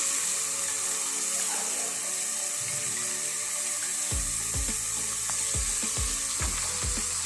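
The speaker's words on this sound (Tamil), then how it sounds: "நல்லா ஃப்ரை ஆகட்டும்." Roasted ground masala powder fries with vinegar and lemon juice in a pan for Hyderabadi chicken pickle, a steady close sizzle, with a few low thumps of stirring near the end.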